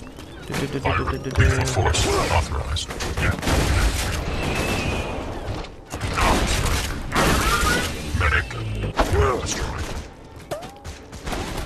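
Gunfire in Borderlands 2 rattles in dense, loud bursts and rapid volleys with mechanical clanks mixed in, while a voice talks over the shooting.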